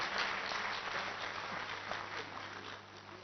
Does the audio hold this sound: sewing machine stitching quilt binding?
no